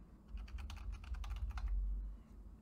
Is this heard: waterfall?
no